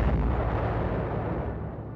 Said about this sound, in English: Belfast closed in to fire a last salvo of torpedoes at the crippled Scharnhorst